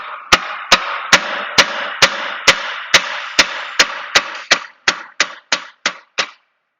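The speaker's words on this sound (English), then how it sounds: "I'm going to give another tap on this dowel pin" A dowel pin on a Nissan Altima CVT transmission is tapped during a rebuild with about fifteen sharp, evenly spaced metallic strikes, close and loud, each ringing briefly before the next.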